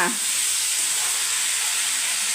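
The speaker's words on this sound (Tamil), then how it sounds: "தக்காளியும் வதம் வெங்காயமும் நல்லா வதங்கிடுச்சு" Tomatoes and onions sauté in a pan with a steady, close frying hiss that stays even and unbroken throughout, with no speech.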